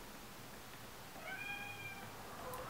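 A house cat meows faintly in a quiet room, one soft drawn-out call in the middle followed by a brief fainter one, with no talking.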